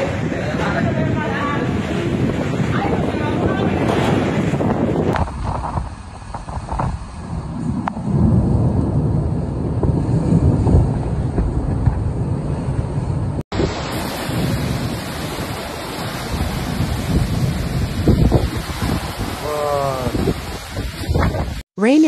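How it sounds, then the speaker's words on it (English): Heavy, continuous roar of hurricane-force wind buffeting the microphone, with rushing rough surf and rain underneath, loud and unbroken throughout, in the Zapata swamp, Cuba, during Hurricane Rafael. "Rain and wind are increasing in the Zapata swamp. The swells are strong"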